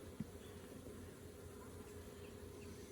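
Honey bees buzz on a heavy hive frame while a swarm is caught and settled, a low continuous drone held steady and quiet throughout.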